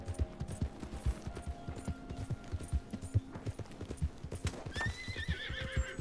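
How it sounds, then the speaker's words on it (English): Horse galloping in a steady, rhythmic clip-clop of hooves, with a neigh near the end, in Red Dead Redemption, over a faint ambient game soundscape. "I'm hurting my horse by running into things, I think."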